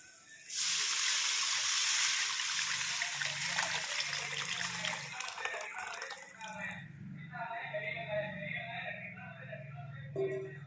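Tomato water poured into a pan for rasam, a steady splashing pour for about six seconds that then tapers into softer trickling and sloshing, with a faint low hum underneath.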